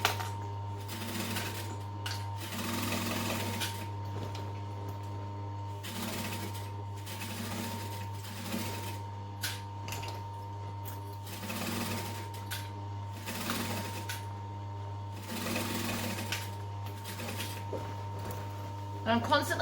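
A sewing machine stitches a bulky duffel bag in repeated bursts of rapid mechanical chatter over a constant low motor hum, with short pauses between runs.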